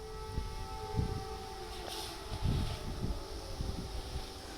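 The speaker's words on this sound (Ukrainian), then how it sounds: "Перед виходом команд на розминку звучить сирена." A distant air raid siren holds a steady wail over gusts of wind buffeting the microphone, outdoors at a football stadium before a match in Ukraine.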